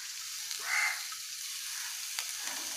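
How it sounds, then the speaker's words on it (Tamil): Spices, salt and fresh coriander sautéing in a hot pan for Tamil egg rice make a continuous close sizzling hiss with a brief louder flare near the start; no one speaks. "போட்டு நல்லா வதக்கலாம்"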